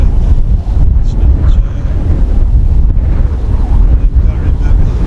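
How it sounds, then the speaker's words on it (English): A breeze blows through Brinscall Woods, heard mainly as constant heavy wind buffeting on the microphone, a loud, rumbling, unbroken roar throughout. "Bit of a breeze, but it's nice having that bit of breeze"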